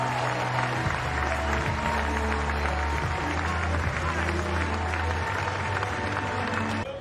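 A stadium crowd at the 2019 NCAA ACC Tournament championship baseball game, North Carolina vs Georgia Tech, applauds a departing right-handed pitcher with steady, dense clapping that fills the whole stretch, mixed with a low, even background hum.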